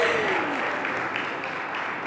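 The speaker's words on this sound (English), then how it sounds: "Big round of applause." An awards-ceremony audience in a large hall applauding, a dense steady wash of clapping filling the whole short stretch at moderate distance.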